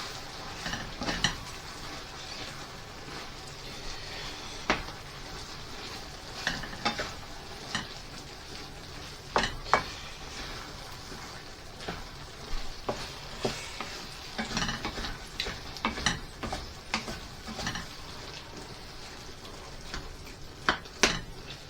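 Rabbit and chorizo being stirred in a frying pan with petit pois, a steady sizzle under repeated scrapes and clinks of a utensil against the pan, close and fairly quiet, with no talking.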